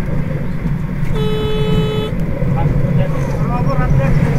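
Road traffic passing through a village, with a long, loud, steady car horn blast over constant engine and road noise, then shorter toots further off while people talk.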